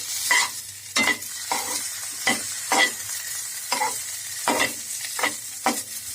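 Small paneer pieces sizzle in a hot pan while a spatula stirs them, giving steady frying hiss broken by about nine distinct scraping strokes in an uneven rhythm, close and clear, with no talking.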